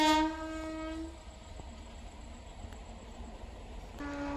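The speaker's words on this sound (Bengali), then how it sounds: "এই দেখেন ট্রেন যাচ্ছে বন্ধুরা।" A train passes by with a loud horn blast at the start and again near the end, its steady rumble carrying on between the blasts, with no voices.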